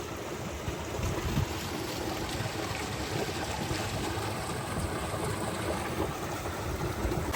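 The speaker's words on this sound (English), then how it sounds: "Already we see a small cascade flowing down here." A small cascade in a cold canyon creek with fish pools, pouring in a steady, close, broadband rush of flowing water that continues without a break.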